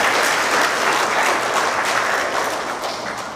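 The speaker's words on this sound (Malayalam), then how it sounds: "നമുക്ക് അച്ഛനായിട്ട് നല്ലൊരു കയ്യടി സമ്മാനിക്കാൻ കഴിയുക" Warm applause from a congregation for the priest at a First Holy Communion, dense and steady clapping that slowly tapers toward the end.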